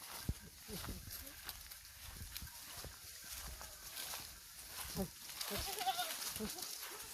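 Goats bleat now and then amid rustling and shuffling footsteps in a village forest, while people talk in the background.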